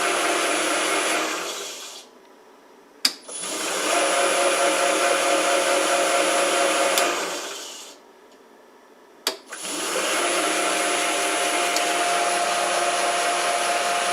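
A Boxford AUD metal lathe runs at roughly 650 RPM with a smooth, steady motor whine, heard in two long runs broken by short quiet gaps with a sharp click at each restart.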